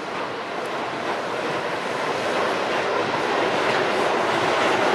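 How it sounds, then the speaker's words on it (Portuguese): Two CPTM PR22 locomotives, numbers 6211 and 6212, maneuver at Lapa, giving off a constant broad, hissing rumble that swells slightly, without distinct clacks or voices. "vamos acompanhar um pouco aí dessa manobra, dessa jornada aí dessas locomotivas"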